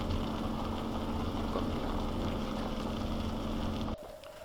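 Buggy engine in Winter Resort Simulator drones steadily while climbing uphill, a constant low hum at moderate loudness that cuts off abruptly near the end, with no talking.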